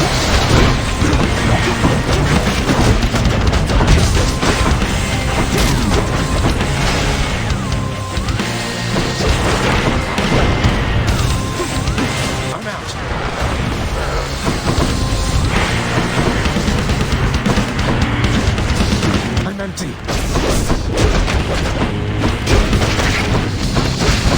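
Ground pound attacks in the Hades action game land as heavy, booming impacts, repeated through a loud and dense wall of game music and effects.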